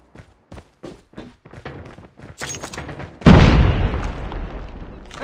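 A grenade goes off in the CoD Mobile shooter, a loud close blast after a run of quick footsteps and light clatter, its rumble decaying over the final two seconds.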